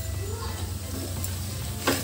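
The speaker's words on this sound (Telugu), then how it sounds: "ఇవన్నీ వేసాక ఇవి ఆయిల్లో బాగా ఫ్రై అవ్వాలండి" Anapaginjala (field bean) masala curry ingredients frying in oil with turmeric, giving a steady low sizzle and soft stirring scrapes throughout, with a brief clatter near the end.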